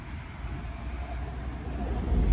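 A low, steady rumble of a light rail train rolling past at a distance in Metrotown, Burnaby, British Columbia, a continuous mechanical drone that slowly swells louder.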